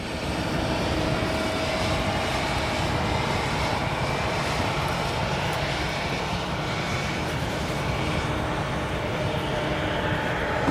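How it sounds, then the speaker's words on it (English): Boeing 747 freighter departing O'Hare runway 9 right: a steady, broad jet roar with continuous low rumble and hiss holding at an even, fairly distant level throughout, no voices. "Coming over to that Flexport 747 Xavier was talking about a minute ago, now departing runway 9 right."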